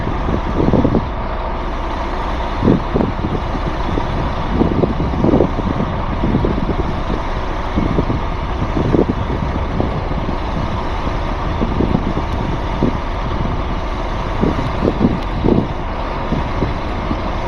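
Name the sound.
truck engine while driving on road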